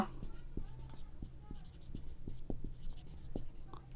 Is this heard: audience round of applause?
no